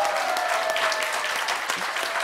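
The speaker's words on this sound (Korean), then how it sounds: "박수 선생님 한번 부탁드립니다." Sustained applause from a seated audience at a talk concert welcoming a guest, even and moderately loud for the full moment with a faint tonal hum beneath.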